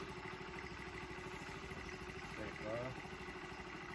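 A motorcycle engine flooded with old fuel idles roughly and sputters, with a brief rev that bogs down near the end; someone talks over it.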